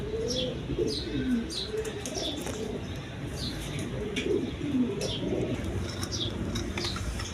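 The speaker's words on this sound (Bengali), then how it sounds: "দেখেন সুপার কোয়ালিটি সম্পন্ন কবুতর।" Bombay pigeons coo in low, repeated rolling phrases at a market stall, close and fairly soft, with sharper chirps and a few brief wing flaps scattered throughout.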